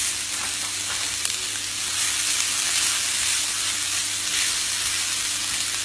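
Lamb mince mixture stirred in a hot frying pan, a steady close sizzle and hiss of frying meat with faint scraping of the spoon, continuous and without talk.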